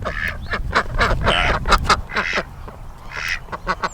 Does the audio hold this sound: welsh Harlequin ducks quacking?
yes